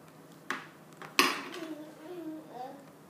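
A spoon clinks and scrapes against a plate while a child eats omelette, with two sharp clinks standing out, followed by soft child vocal sounds.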